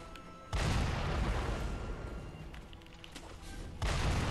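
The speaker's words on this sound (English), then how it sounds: "I have a dude shooting a cannon at me" Heavy cannon blasts in Sekiro, two loud booming hits, one early and one near the end, each followed by a sustained rumbling roar that dies away slowly.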